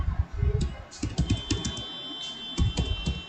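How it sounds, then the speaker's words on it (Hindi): Someone types on a computer keyboard into a web browser, a quick, irregular run of close, crisp key clicks with short pauses and no talking. "आपको अपने ब्राउजर में यूडाइस प्लस टाइप करनी है"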